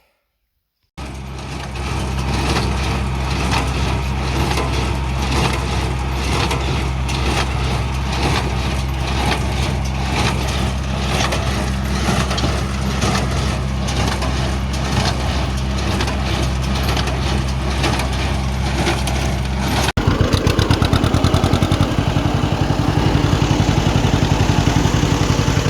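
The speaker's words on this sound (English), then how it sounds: "There we go, a trailer pusher." A trailer pusher machine running steadily with a low engine drone and mechanical clatter, close and constant throughout, growing slightly louder and rougher near the end.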